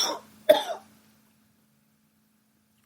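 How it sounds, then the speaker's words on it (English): A man gives a couple of harsh, throaty coughs, close and fairly loud, followed by near silence. "All this coughing I'm doing."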